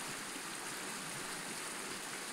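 A small brook rushes over a gravel riffle, giving a continuous, even hiss of flowing water heard alone.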